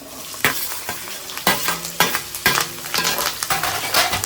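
Peanuts, green chilli, curry leaves and onion fry together in oil, a steady sizzle interrupted by rhythmic spatula scrapes and clacks against the pan roughly every half second.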